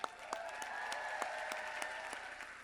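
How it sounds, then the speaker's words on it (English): An audience claps steadily, dense applause with a few sharper individual claps standing out, moderately loud and sustained. "Now clap up these YouTubers here."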